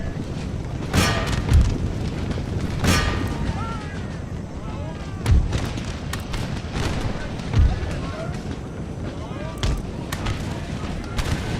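Battlefield gunfire and artillery from Empire: Total War (DarthMod), with repeated booming cannon blasts and crackling musket volleys spread across a steady roar of distant battle noise, no talk heard.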